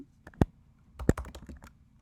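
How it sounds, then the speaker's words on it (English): A name typed on a computer keyboard: a short burst of close, crisp key clicks, two isolated presses followed by a quicker run of several keystrokes, with no talking. "I'm just going to type out my name"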